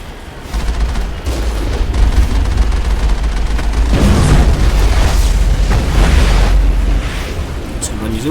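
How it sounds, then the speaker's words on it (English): Heavy gunfire rips through a firefight in Mass Effect against colonists, with dense, booming bursts close by that keep up for several seconds and barely let up. "I'm going to just shoot them."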